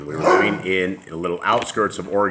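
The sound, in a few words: dog barking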